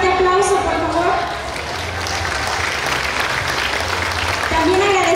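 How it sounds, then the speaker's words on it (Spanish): A crowd claps steadily at a goat broth contest award ceremony. The applause is sustained and fairly loud, and a presenter's voice can be heard at the start and end. "Un fuerte aplauso, por favor."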